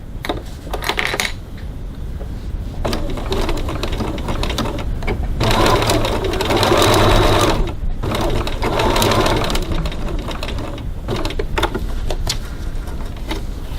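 Sewing machine basting strap tabs to a bag gusset about a quarter inch from the raw edge, running in several steady bursts of rapid stitching with brief pauses between, close and fairly loud, with no talk.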